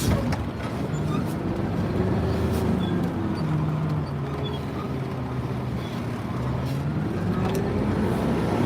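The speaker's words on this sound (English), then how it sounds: "This truck does not turn good to the right at all." A truck driving and turning, with a steady low engine drone and road noise that stays close and even throughout, without talk.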